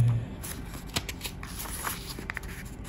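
Faber-Castell Emotion fountain pen, a thick-barrelled model, writing on paper with close scratchy strokes and small taps, steady and near against a faint hiss, no voices.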